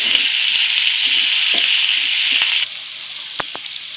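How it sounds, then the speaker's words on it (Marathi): Potato sabji frying in a pan, with a bright loud sizzle that drops suddenly partway through, and a few soft stirring scrapes underneath, heard up close. "आता आपण भाजी चांगली हलवून घेऊ"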